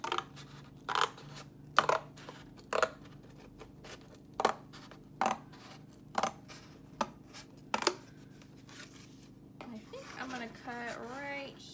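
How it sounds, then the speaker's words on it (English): Scissors cut through cardboard flaps as a series of sharp, crisp snips, about ten spaced clicks close by at low level, followed by a brief voice at the end. "I'm going to cut off this little flap right here"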